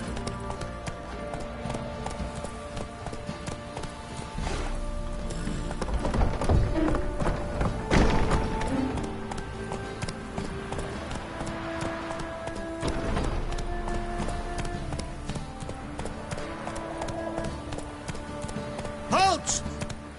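Rhythmic clip-clop of a horse's hooves from a riding sequence in a fantasy video game with a witcher, steady and moderately near beneath game music and ambience, with a deep thud and brief voices.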